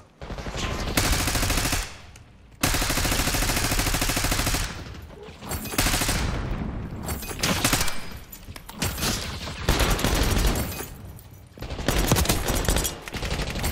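Call of Duty Black Ops gunfire rattles in dense, loud bursts of rapid shots, with brief gaps between volleys and a few heavier blasts, close and dominating the mix.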